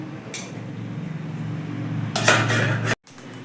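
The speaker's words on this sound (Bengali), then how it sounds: "এবার ঢাকা দিয়ে দেবো" A metal lid set down on a kitchen pan while cooking a vegetarian banana-stem dish, a short bright clatter and clink near the end after a low steady hum, followed by a brief ringing tap.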